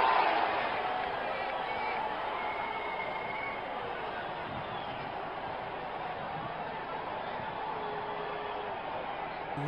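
Cricket stadium crowd at an IPL match between Mumbai Indians and Royal Challengers Bangalore, a broad, steady roar of cheering that swells at the start and then settles into a sustained wash.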